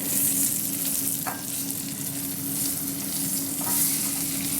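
Mushrooms cook in a pan for chicken coq au vin, giving a steady, close sizzle. A couple of brief stirring clicks break through the sizzle; no one speaks.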